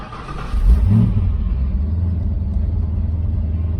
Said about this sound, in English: It's got full exhaust on it, so I guess we could get in here and start it up